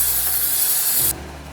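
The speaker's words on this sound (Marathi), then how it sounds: "तर त्यासाठी आपण आता क्लिनिंगसाठी ब्रशला यूज करतो आहे" A cleaning brush scrubs a motorcycle chain during home bike servicing, a close, continuous rough rubbing that stops abruptly after about a second, leaving a low hum.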